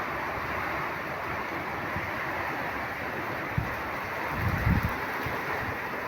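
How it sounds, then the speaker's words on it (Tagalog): Strong wind roars steadily against the microphone, a constant dense rush with a few low gusty thumps. "Oh, ang lakas ng hangin oh."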